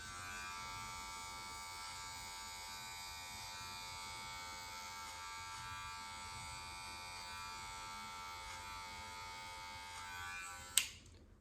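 Electric hair clippers run in a steady, continuous buzz while cutting a high taper fade on a self-cut, close and even throughout, ending with a brief sharp click as it shuts off.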